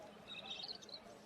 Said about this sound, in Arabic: شباب شوفوا طيور الحب.